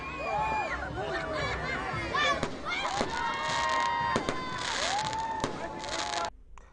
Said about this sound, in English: the skies above Sky's Hotel were set ablaze with a stunning fireworks display